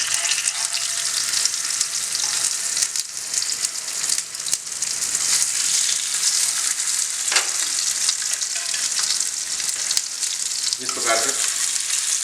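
Chicken shami kabab patties fry in hot oil with a steady, dense sizzle that runs throughout, broken by a few brief louder crackles as patties are set down, with a short spoken phrase over it.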